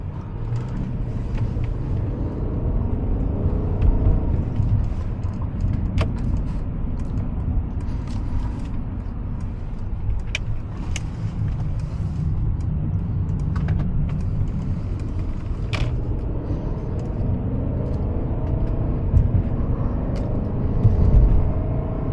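A Mercedes-Maybach S580 cruising the Pacific Coast Highway, heard from inside as a steady low road and engine rumble with a few faint clicks and ticks and no talk.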